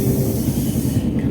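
A train running at speed along a scenic hill route in Andhra, heard from on board as a steady, loud rumble with dense low clatter and a hissing wash above, continuous for the whole moment.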